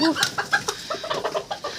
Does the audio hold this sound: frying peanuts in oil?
no